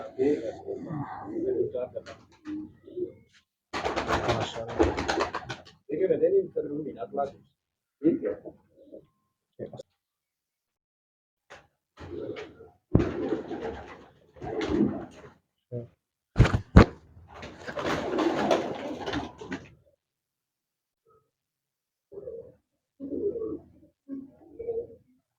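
Breeder pigeons coo in soft, low bursts close by, scattered between stretches of quiet, with people talking at intervals and a few wing flaps or thumps.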